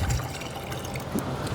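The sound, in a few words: pouring 2 gallons of deionized water into bucket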